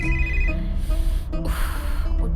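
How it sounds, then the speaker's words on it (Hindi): A mobile phone ringtone plays a repeating electronic melody, clear and fairly loud, in short tonal phrases with brief pauses between them, against a low background hum. "तभी उसके फोन की रिंग बजी।"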